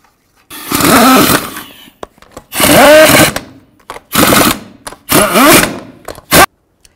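A power tool spins lug nuts onto a wheel of a 2000–2006 Chevy Tahoe in four loud, close bursts of motor whir with a rising pitch, separated by short pauses.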